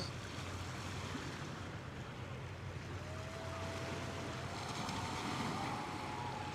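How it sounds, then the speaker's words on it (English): Harbour water at Red Hook in New York lapping and washing steadily as a boat passes, with a faint thin engine whine rising from the middle onward under constant wind and surf noise. "Don't you love the sound of that water, Sarah?"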